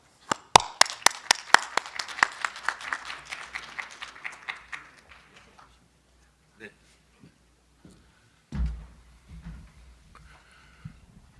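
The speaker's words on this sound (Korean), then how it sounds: "큰 박수로 맞이해 주시기 바랍니다." Audience applause welcoming a lecturer at a Korean university education council general assembly, a burst of many hands clapping that swells and then thins out to a few scattered claps, with a brief low rumble near the end.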